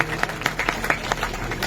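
Scattered audience clapping rises at a religious katha gathering, individual hand claps standing out in an uneven rhythm over a low background hum, moderately close, with no speech.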